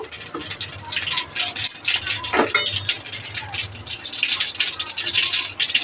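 Mustard seeds, cumin and chana dal tempering in hot oil in a kadai, a steady crackling sizzle with sharp pops and occasional clinks of a utensil against the pan, close and fairly loud.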